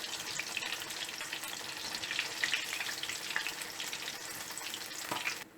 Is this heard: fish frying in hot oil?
yes